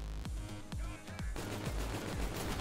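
Repeated gunshots from a weapon in Call of Duty: Infinite Warfare multiplayer, loud bursts of rapid fire with short gaps, then denser continuous shooting.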